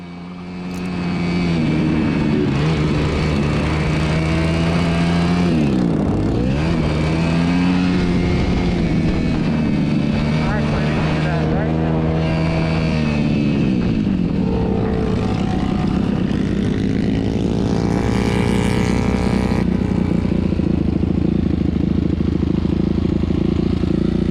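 Kawasaki KX250 dirt bike engine revving loud and close throughout while riding, with pitch rising and dipping through gear changes and a sharp drop around six seconds like a missed shift into false neutral.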